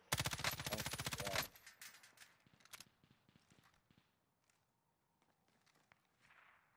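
Gunfire in the Call of Duty Warzone video game on Rebirth Island: a rapid, loud burst of automatic shots for about a second, followed by scattered distant single shots and faint footsteps.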